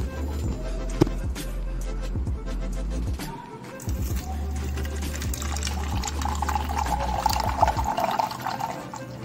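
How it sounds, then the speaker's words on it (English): Milk poured into filter coffee prepared with a traditional Kerala brass coffee filter, a steady liquid splash and fill sound running close by with a few clinks and a pause partway through. "So now we shall add milk."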